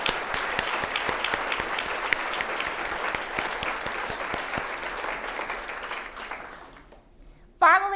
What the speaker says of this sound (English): so that we can give you all a hand clap for your long hours and praiseworthy dedication